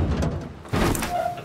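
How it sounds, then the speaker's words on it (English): A door sliding open in a video game, a brief rushing slide with a low mechanical rumble, set against constant game ambience. "Door's open."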